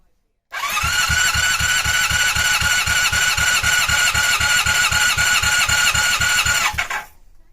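Honda CB250 motorcycle engine cranking over on the starter during a compression test, a steady rapid rhythmic chugging with a whining starter tone, loud and close for about six and a half seconds before cutting off.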